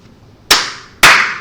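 Two sharp, loud hand claps ring out about half a second apart in a church during a sermon, each with a short decaying tail and no voices.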